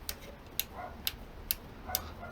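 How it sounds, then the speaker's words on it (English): An Ohlins adjustable steering damper on a BMW S1000R clicks as its adjuster is turned tight, giving five sharp, evenly spaced ticks close up with quiet gaps between them and no voice. "I've just tightened the adjuster all the way up to one end"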